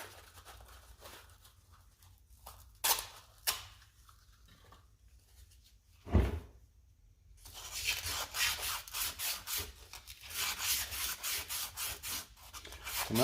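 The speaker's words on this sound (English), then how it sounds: "Sand that out a little." Emery cloth rubbed back and forth on a Volkswagen MK4 steering knuckle during a wheel bearing job, first a few isolated scrapes and a thump, then a long run of rapid, rhythmic gritty strokes, close and fairly loud.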